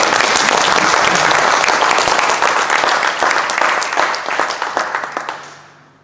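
A crowd's applause, full and continuous at first, then thinning into scattered claps and fading out toward the end.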